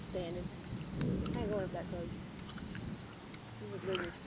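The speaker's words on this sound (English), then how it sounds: "I hear it thundering." Thunder rumbles low and distant over the Blue Ridge Parkway, a muffled roll beneath people talking nearby outdoors.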